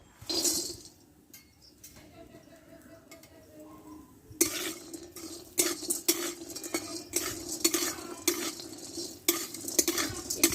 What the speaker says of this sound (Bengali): এটা আমি শুকনো খোলায় ভেজে নেব